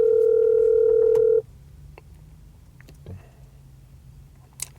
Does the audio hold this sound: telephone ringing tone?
yes